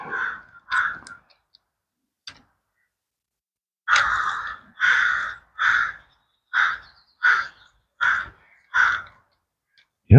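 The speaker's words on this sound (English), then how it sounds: "got a bunch of boisterous crows. They're wanting to mess up all of my audio" Noisy crows caw outdoors: a pair of harsh calls, a pause, then a run of seven or eight loud, regularly spaced caws, fairly close and with no talking over them.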